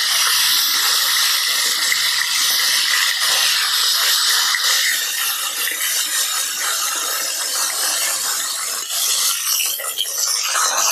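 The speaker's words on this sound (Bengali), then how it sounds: "মাছটা এবার আমি উল্টে দেবো" Tilapia fish fry in hot oil, a steady, dense, loud sizzling hiss that fills the whole stretch with little change, no voices over it.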